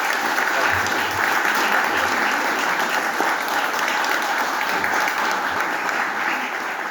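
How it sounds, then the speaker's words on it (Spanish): Audience applause at a book presentation, loud and continuous clapping from the crowd that stays level throughout. "pido unos fuertes aplausos para Patrick"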